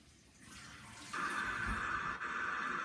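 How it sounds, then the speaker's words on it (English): Kitchen tap running as a towel is held under the water to wet it, a faint hiss that swells into a steady close stream of water, briefly interrupted once before resuming. "I'll go run it into under some water and make it a little wet."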